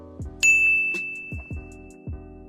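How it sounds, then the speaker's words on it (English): A notification bell ding rings out sharply once, its bright tone lingering and slowly fading over a steady low background hum, with a few soft thumps underneath. "Notification bell?"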